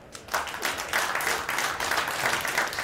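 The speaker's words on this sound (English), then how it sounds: "Loud applause" A crowd at the Predator WPA Men's World 10-Ball Championship pool match breaks into applause, brief bursts of many hands clapping that swell and ease over a few seconds.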